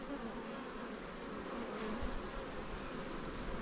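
Honey bees buzz around an open hive during a frame inspection, a dense steady drone that stays faint and even throughout with no voices.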